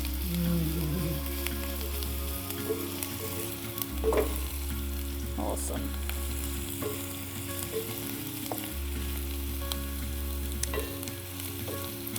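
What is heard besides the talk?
onion and garlic sizzling in a pan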